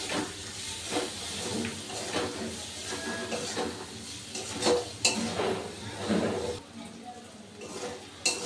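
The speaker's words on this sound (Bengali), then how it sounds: "এবার মশলাটাকে খুব ভালো করে কষে নেব।" Masala paste of ginger and dried red chilli with salt being fried in a pan for potol posto, a steady close sizzle and hiss broken by scraping stirs and occasional clinks of the spoon against the pan.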